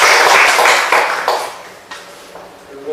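Applause from a seminar audience welcoming a speaker, starting as a dense burst of clapping that quickly thins and fades to scattered claps within a few seconds.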